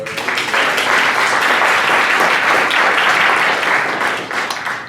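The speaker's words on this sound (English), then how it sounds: "Again, a round of applause." Loud, sustained applause from a large crowd at a Surrey Board of Trade young entrepreneurs event, steady and dense throughout before tapering slightly at the end.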